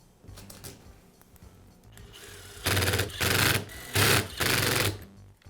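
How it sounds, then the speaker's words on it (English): On a DeWALT angle grinder repair, the spindle assembly is seated in its housing and screws are driven in. Faint tapping leads into four loud, close mechanical buzzing bursts of about a second each. "I'll tap it into place and secure it with the screws."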